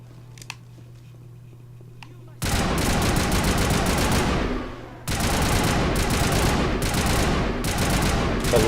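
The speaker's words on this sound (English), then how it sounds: "Laying down suppressive fire." Sustained automatic gunfire in the Mass Effect video game comes in two long, loud, dense bursts, separated by a short lull, after a quiet opening.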